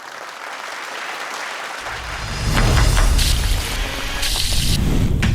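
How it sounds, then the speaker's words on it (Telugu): Studio audience on a Telugu TV cooking-show set breaks into loud, sustained applause to welcome contestants, swelling into a dense, steady clatter of clapping that fills the room. "గట్టిగా చప్పట్లు కొట్టి స్వాగతం పలుకుదాం"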